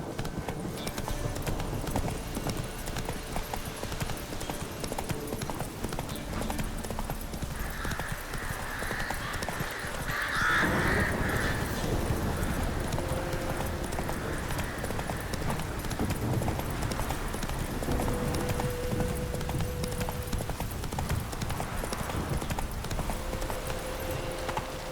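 Roach, the horse in The Witcher 3, gallops with steady rhythmic hoofbeats that run continuously under game ambience and music, with a brief whinny partway through.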